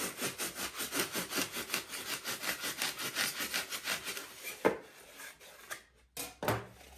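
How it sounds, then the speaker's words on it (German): Rhythmic back-and-forth sawing strokes of an old saw halving a styrofoam ball, steady and close, about a dozen passes, then a few scrapes and a pause as the cut finishes. "Ich muss mir jetzt mal zunächst meine Styroporkugel halbieren. Ja, und dazu verwende ich jetzt einfach eine alte Säge."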